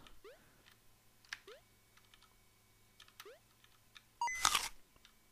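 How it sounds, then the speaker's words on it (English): Small crunchy sound effects from the video game Anki, a handful of soft clicks and chirps spaced through quiet, then a louder dense crunchy burst near the end, with no talking. "Like the little crunchy effects they do."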